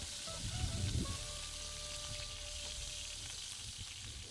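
Small fish chunks sizzle in a hot pan after citrus juice is poured over them aboard a fishing boat, a steady soft crackle with a brief louder burst of bubbling near the start.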